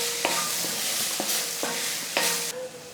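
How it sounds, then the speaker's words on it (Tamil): Dried fish stirred in hot oil with chilli powder, salt and turmeric, a spoon scraping the pan in several close strokes over a steady sizzle of frying. "இது போல் கருவாடை சேர்த்துட்டு அந்த எண்ணெயில் 1 நிமிஷம் வதக்கி விட்டுட்டு"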